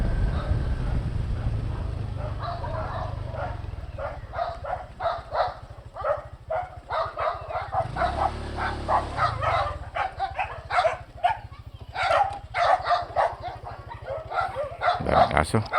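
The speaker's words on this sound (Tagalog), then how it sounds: "Daming aso." Several dogs bark at a road intersection on the way from Camalig, Albay: repeated sharp barks come in irregular bursts over a low idling engine, moderately close, with a brief lull in the middle.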